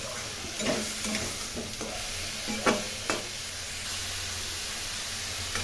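Spices with red chilli powder sautéed in a pan for Bengali fish curry, stirred so the soft, steady sizzle is broken by several scraping knocks of the spoon, with no speech.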